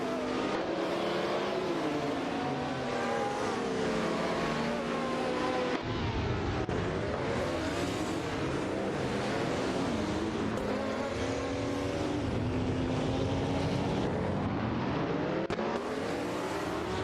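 Race cars in an AI racing video game roar past with rising and falling engine whines, several cars overlapping in a continuous, moderately loud stream of revving and shifting.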